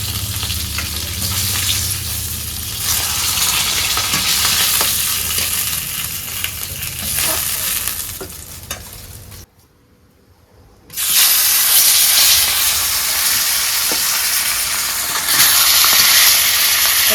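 Tilapia fish frying in a pan, a loud, dense, crackling sizzle close by that cuts out for about a second midway and then resumes just as strongly, with no talk.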